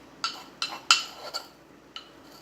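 A spoon clinks sharply against a pot several times while two spoonfuls of ground perilla seeds are added to a mushroom perilla soup, about five bright metallic taps, close and alone.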